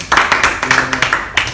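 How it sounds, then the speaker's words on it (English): Audience applause at a stand-up comedy night, close and fairly loud hand clapping in a quick, uneven rhythm that lasts about a second and a half. "That's a big round of applause for David."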